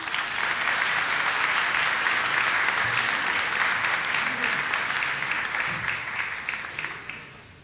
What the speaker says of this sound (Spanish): Démosles entonces una cálida bienvenida con un fuerte aplauso.